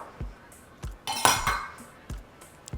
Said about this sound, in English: we're going to begin by mixing 1 cup of all-purpose flour, half a cup of cornstarch.